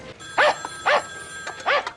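A dog gives three short barks or yips in a busy household, close and fairly loud, with a faint background ring and some noise between them.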